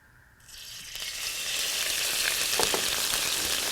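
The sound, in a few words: fat from braising liquid sizzling in a hot pan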